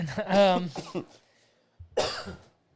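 A few harsh coughs close to the mic, then a pause and one more rough cough burst.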